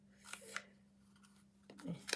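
Scissors snip paper for a small guest box or place card, a few quick close cuts over a faint steady hum, with soft talk nearby.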